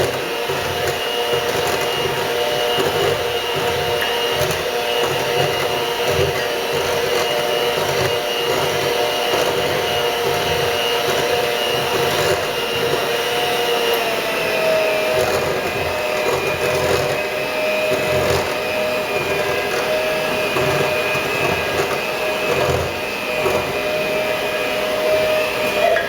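Electric mixer running steadily on low, beating a batter of sour cream and flour mix, a continuous close whirring motor hum with a faint rhythmic beat, no talking.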